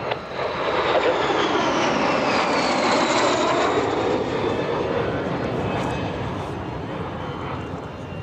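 T-33 jet airplane making a low pass down the runway at the EAA AirVenture warbird airshow, a loud sustained roar that swells and fades slowly with a shifting whine, with a voice speaking over it.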